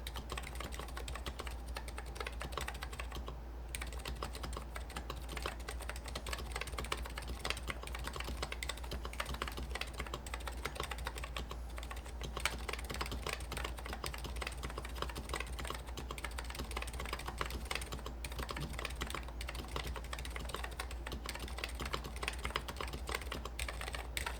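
Steady, continuous typing on an HX40 EC-build keyboard fitted with PBT keycaps, with dense rapid clicks and soft thocks running throughout at close range over a low constant hum, with no voices.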